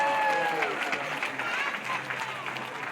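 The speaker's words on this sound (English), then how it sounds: "Give them a big round of applause" Spectators at a sea lion training show at Taronga Zoo applaud as a trainer brings out a female Australian sea lion, a steady spread of clapping with voices over it.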